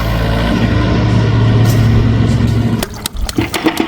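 A farm vehicle's engine runs loud and steady at close range, then cuts off after about three seconds, leaving a few sharp clatters.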